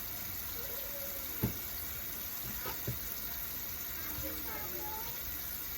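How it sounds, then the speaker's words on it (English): Sliced food being rinsed in a bowl of water in a home kitchen, a steady soft wash of trickling and splashing with a few sharp knocks and clinks along the way. "put this right into our water so we can rinse"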